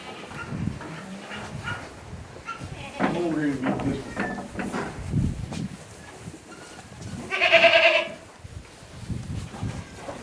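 Baby goats on a grassland ranch bleat, with a loud, close bleat standing out late on amid softer animal calls, while a person talks throughout.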